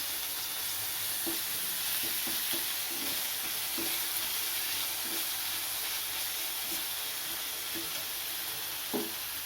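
Dried red chillies, black cumin seeds and grated ginger fry steadily in a small amount of oil, giving a continuous close sizzle and crackle with occasional soft spoon stirs and brief pops.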